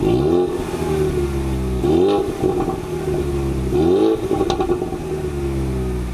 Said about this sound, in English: Let's take a listen to what this car sounds like.